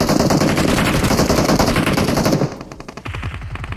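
Rapid automatic gunfire in PUBG Mobile hammers close and loud for over two seconds, then drops to quieter bursts of shots continuing in a fast rhythm.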